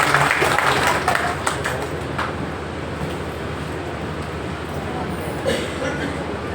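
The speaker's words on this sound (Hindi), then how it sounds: "एक बार ताली बजा दिया करो उनके नाम का" A devotional religious discourse audience claps together in a sustained burst of applause that fades slightly over several seconds, with voices mixed in.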